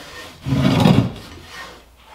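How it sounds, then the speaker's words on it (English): A cloth gives the inside of a sanded cast iron pan a quick wipe, making a single close rubbing swish that swells and then fades within about a second. "I'll just give everything a quick wipe down."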